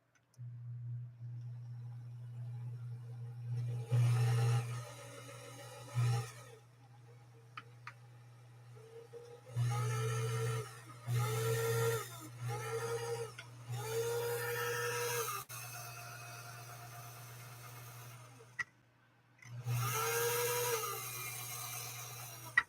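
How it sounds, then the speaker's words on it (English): A Can Workshop machine's motor runs with a steady low hum throughout, while a rubbing, whirring belt noise swells and fades in several repeated bursts, fairly close and loud, without talk. "See if we can fire up the motor."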